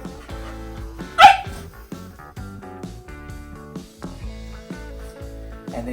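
A person gives a short sharp yelp imitating a puppy, loud and close, with a Shih-poo puppy's soft yips and whimpers around it, then quieter scuffling and faint puppy noises.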